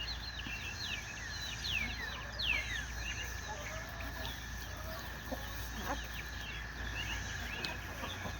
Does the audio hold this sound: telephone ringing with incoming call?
no